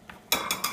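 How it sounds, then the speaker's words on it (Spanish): A utensil stirs syrup into a mixture, giving a few sharp metallic clinks and scrapes against the bowl in quick succession, close and fairly loud, with no talking. "Y mezclar."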